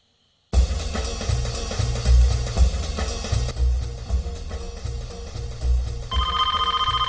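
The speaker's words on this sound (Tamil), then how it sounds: "ஃபோன் அடிக்கிற சத்தம் உனக்கு கேட்கலையா?" A telephone rings in a room: a steady repeating electronic ring pattern, loud and close, with rhythmic pulses continuing for several seconds and a brief change in tone near the end.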